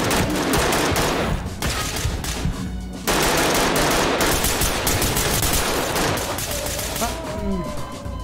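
Sustained automatic gunfire rattles through a Ready Or Not firefight, loud and close, with dense rapid bursts that barely pause across the whole stretch and a voice talking underneath.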